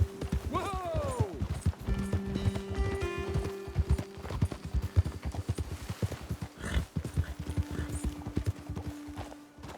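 Horse hooves pound in a fast, steady galloping rhythm in the video game Red Dead Redemption 2, with a horse's whinny early on and voices speaking over the hoofbeats.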